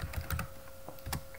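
Quiet clicking of keys on a computer keyboard while commands are typed, a few quick bursts of keystrokes over a steady low hum.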